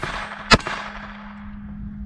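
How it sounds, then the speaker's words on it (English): A single sharp gunshot cracks once at outdoor shooting practice, fired from a loaded magazine, followed by a lingering ringing echo and a low steady hum. "Let's pop off a couple rounds here."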